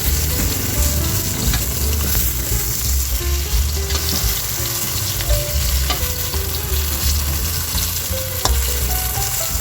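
Eggplant fries in a pan with a dense, continuous crackling sizzle that stays loud and close for nearly ten seconds, with occasional faint clicks and a low background hum; no one speaks.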